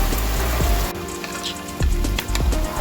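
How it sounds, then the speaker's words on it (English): Steady rain falling on a surface outdoors, a dense close patter with a brief quieter dip before returning to full strength, no voices. "See that, viewers? It's raining, but it's still going down."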